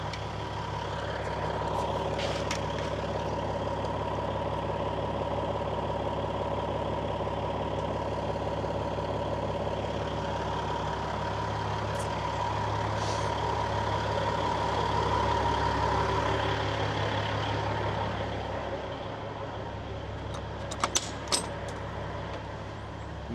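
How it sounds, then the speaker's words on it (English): Kenworth K100 cabover truck idling as its air system builds pressure, a steady low diesel rumble with a constant whine and brief sharp air hisses near the end, heard close with no talk. "And while we're letting this truck air up,"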